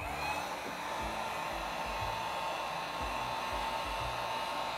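A heat tool blows steadily over an acrylic paint pour, giving a close, continuous whirring hiss of air with no talk.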